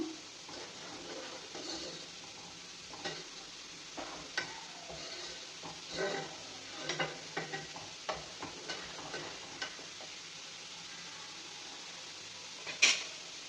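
Ingredients for bottle gourd halwa frying and puffing in a pan on a stove, a steady soft sizzle broken by scattered stirring scrapes and light taps, close by, with a sharp clink near the end.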